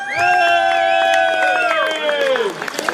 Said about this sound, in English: big round of applause for these guys